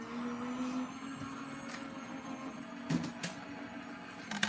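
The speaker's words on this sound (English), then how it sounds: "this will be the last of the loud grinding die cutting machine" A die cutting machine runs during card-making with foils and toner sheets, giving off a loud, steady mechanical grinding whine with a few sharper clunks toward the end.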